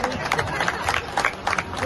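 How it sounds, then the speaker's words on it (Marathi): An audience applauds at a gathering honoring the head of a health cell ahead of his wedding, a steady dense patter of many hands clapping with crowd murmur throughout. "आता टाळ्या वाजवा."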